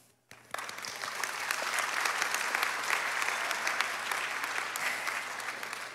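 Graduation audience at a nursing college ceremony bursts into sustained applause, dense steady clapping from a large crowd that starts abruptly and continues throughout at an even level.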